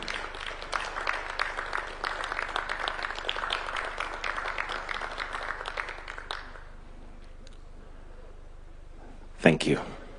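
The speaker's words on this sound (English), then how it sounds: "Hands and a round of applause." Audience applause at a Madaraka Day state event welcoming the Slovenian president, a sustained round of clapping for about six seconds that cuts off into near quiet, followed by a brief close knock or thump.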